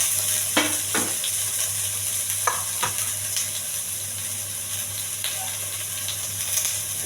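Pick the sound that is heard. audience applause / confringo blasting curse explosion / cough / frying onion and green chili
frying onion and green chili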